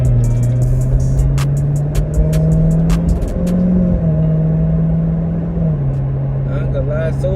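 A Corvette Z06 drives on the road, its engine a steady low drone that steps through shifts from the cabin, with clicks and faint wind, while there is no clear speech heard.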